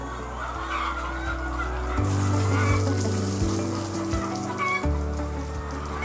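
Laying hens cluck on a poultry farm of about a thousand birds, a steady busy flock noise close by with a low mechanical hum running underneath throughout.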